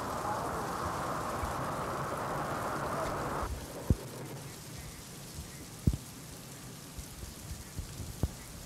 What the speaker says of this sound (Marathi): मनमाड शहर आणि परिसरात वादळी वारा आणि अगदी मेघगर्जनेसह जोरदार पावसाची हजेरी आहे.